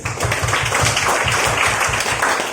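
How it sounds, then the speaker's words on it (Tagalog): A church congregation applauds in a dense, steady wash of clapping that runs the whole time, with a regular low thumping beat underneath. "Kaya lakasan natin ang ating palakpak"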